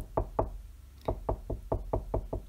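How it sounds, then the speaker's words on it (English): A woodpecker pounds on a roof in a steady series of about ten sharp knocks, close and loud, with a brief pause after the first two. "The next morning, Bill woke to the sound of someone pounding on his roof."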